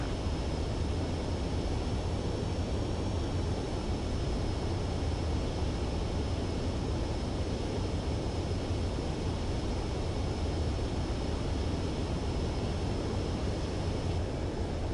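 Steady, unbroken jet engine roar from an aircraft landing on a runway in Ace Combat 7, loud and constant throughout with a broad rushing hiss and low rumble.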